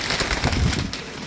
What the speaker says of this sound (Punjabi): ਪੁਰਾਣਾ ਕਬੂਤਰ ਹੈ ਜੀ।